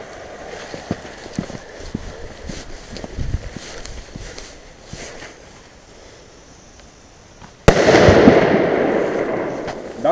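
After several seconds of faint crackling and scuffing, a sharp Piromax Danger firecracker bang goes off close by under a tire, followed by a lingering noisy rumble.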